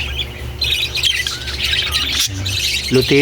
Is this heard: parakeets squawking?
yes